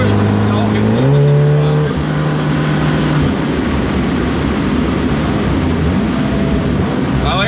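A Volkswagen Golf 7R tuned with a high-end engine control unit accelerates under load, its engine note climbing in pitch, then giving way to steady road and cabin noise heard from inside the car.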